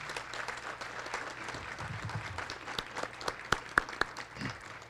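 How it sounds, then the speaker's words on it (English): A college convocation audience applauds, a steady wash of many hands clapping at moderate distance with a few louder nearby claps toward the end. "let's give them a round of applause for the work that they have done"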